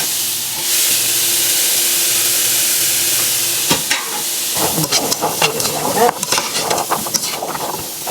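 Chopped vegetables for homemade dog food, including potato and green zucchini, hit a hot pan with a loud steady hiss, then crackle and sizzle unevenly as they are stirred, alone without talk.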